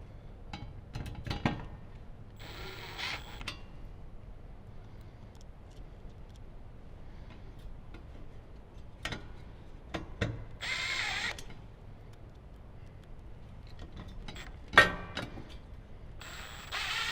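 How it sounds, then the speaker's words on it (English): A screwdriver tightening Phillips head screws on the brackets of a car amplifier, giving sparse clicks and ratcheting scrapes in short bursts separated by quiet pauses, close by. "we're just going to use our screwdriver"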